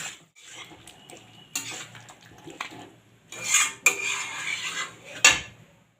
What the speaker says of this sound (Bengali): আলুগুলো দিয়েও আমি কষিয়ে নেব।